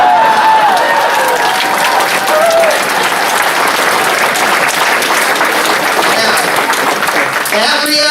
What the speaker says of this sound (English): That reaction that you just gave with the laughter and the applause